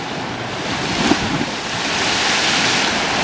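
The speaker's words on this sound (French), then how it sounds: "les vagues aux Résiniers vont jusqu'en haut." Heavy ocean surf during Hurricane Irma pounding the beach at Les Résiniers, a continuous loud roar of breaking waves mixed with strong wind buffeting the microphone, with no talk.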